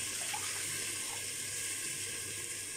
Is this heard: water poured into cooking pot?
yes